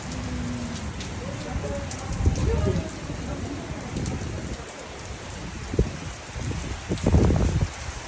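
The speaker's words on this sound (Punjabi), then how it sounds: "ਪੂਰਾ ਮੀਂਹ ਆ ਗਿਆ" Heavy rain falling outdoors, a continuous wash of drumming drops with a few louder splashes and rumbling bursts, with people talking over it.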